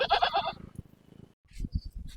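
A male goat at a goat market lets out a loud, wavering bleat, followed by quieter rustling and shuffling noises nearby.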